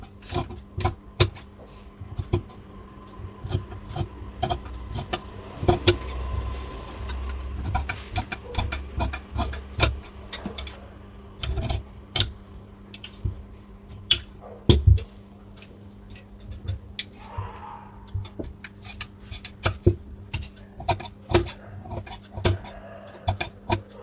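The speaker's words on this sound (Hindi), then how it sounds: "चलिए अब इसको हम कटिंग करते हैं।" Scissors snipping through blouse fabric during tailoring, a steady run of sharp, close clicks and crisp cuts repeating in an irregular rhythm with no talking.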